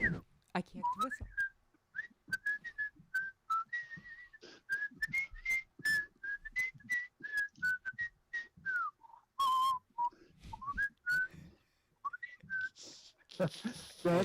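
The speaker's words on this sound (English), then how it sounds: "whistle the theme song to the Woody Woodpecker cartoon" A person whistles the Woody Woodpecker cartoon theme song, a clear, close melody of rapid bright notes and chirpy phrases that keeps going without a break, with only faint breathy noises between the notes.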